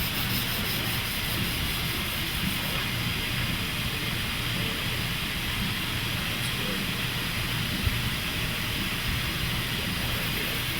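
A guitar's finish being sanded in a PRS shop finishing area to remove scratches, a continuous close, loud rubbing rasp holding steady throughout.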